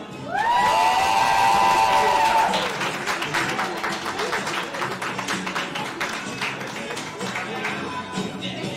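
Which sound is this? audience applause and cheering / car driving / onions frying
audience applause and cheering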